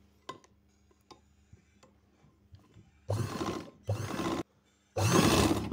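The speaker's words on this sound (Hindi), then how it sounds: "इस तरह रख के मैं सिलाई लगाऊंगा इसको।" A sewing machine runs in three bursts over cloth folded for a round neckline, each run loud and steady, separated by short pauses, after a stretch of quiet clicks and handling noises.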